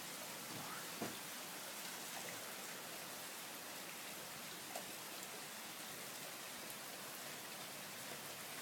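Torrential rain pours down in a constant, enveloping wash of noise, with a few sharper drip impacts standing out close by now and then, and no talking.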